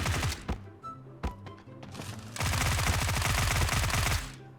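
Video-game gunfire during jump-shooting at close range: a few separate sharp shots come first, then a long, loud rapid-fire burst of automatic fire.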